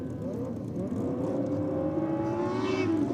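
Drag race between a Suzuki and a GSX-R 1000 motorcycle at an NSW championship round, a loud sustained engine roar rising in pitch as the bikes accelerate hard down the strip.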